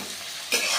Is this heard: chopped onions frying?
yes